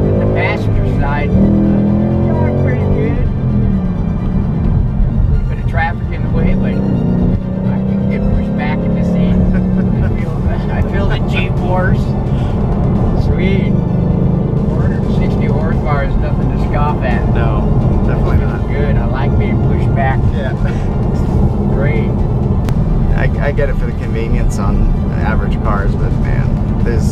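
A black 2018 Ford Mustang GT with a 5.0 engine growls and revs from inside the car, a loud, deep engine roar that rises and falls over about half a minute while people talk over it.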